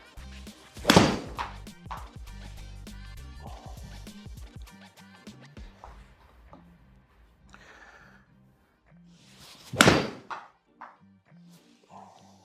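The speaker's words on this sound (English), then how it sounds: "Let's hit a couple more shots with this 8-iron." Two sharp, loud strikes of an 8-iron hitting golf balls ring out several seconds apart on an indoor simulator setup, with faint clicks and low background hum between them.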